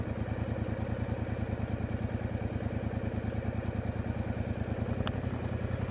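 Motorcycle engine running at low speed with a steady, even pulse, close and loud throughout as the bike pulls off slowly on a module 1 test layout, with a brief faint squeak near the end.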